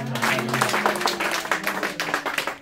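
Congregation in a French church service applauding together, a dense steady wash of many hands clapping at close range, with some voices mixed in beneath the clapping.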